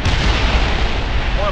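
Explosions in the video game James Bond Blood Stone, a dense, loud rumbling blast filling the short moment with heavy booming low end and no pause.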